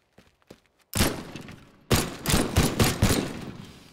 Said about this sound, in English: let's play around with a gun here